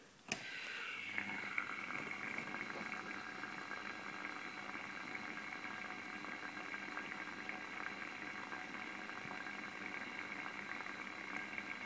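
An HHO electrolysis cell with carbon fiber electrodes bubbles and hisses in a steady boil, giving off steam, with a constant rumble underneath, starting with a sharp click and continuing evenly throughout.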